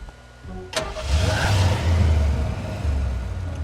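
A van's engine starting: a short crank and catch, then the motor settles into a steady, fairly close mid-pitched idle and slight revving, with no talk.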